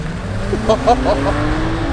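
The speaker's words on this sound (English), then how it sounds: "Oh, wheel spin." Engine revving and tire spin as a road car fitted with Formula 1 wheels launches off the line for a timed track lap, a steady rising drone under brief excited shouts.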